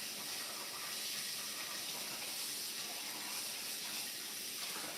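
Tap water runs in a continuous, even hiss while rice is rinsed in a kitchen, a steady close rush with no talking over it.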